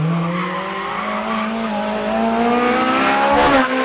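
A Ferrari F430 Scuderia revs hard at Fiorano, the engine note climbing steadily in pitch with a loud, raspy wail before a brief dip near the end, heard alone without talk.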